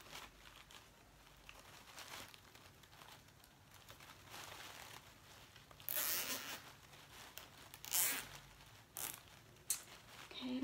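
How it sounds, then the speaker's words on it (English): A plastic zip tie ratchets tight around a small flower bouquet, giving a few short, close zipping bursts over a quiet background. "I'm gonna zip tie my little bouquet together."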